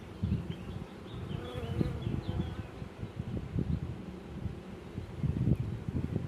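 Honey bees buzzing around an open hive during a queen and swarm inspection outdoors, a dense continuous close drone of many bees with light wind noise.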